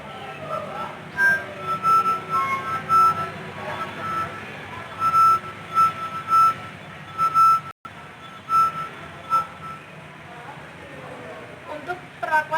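A drinking glass holding only a little water is struck repeatedly during a classroom sound-frequency demonstration, giving a thin ringing tone in a string of uneven taps over a steady noisy background.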